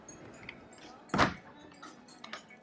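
A fully lockable door in a portable cabin with an all-PVC frame and double-glazed window is locked, giving one sharp, fairly loud clunk with a few faint clicks around it in a quiet room.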